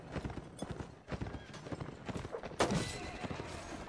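Horse hooves gallop across a battlefield in the video game Mount & Blade: Warband, a rapid, rhythmic clip-clop of thudding steps, close and fairly clear, with a sharp impact burst near the end.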